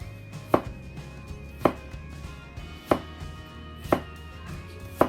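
A kitchen knife slices carrot and cucumber thinly on a cutting board, five crisp, evenly spaced chops about a second apart, close and clear against a quiet room.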